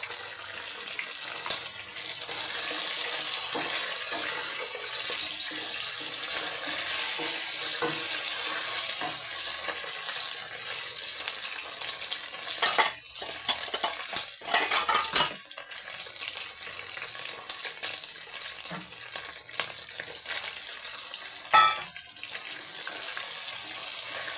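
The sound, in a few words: sautéing spice masala for chicken pulao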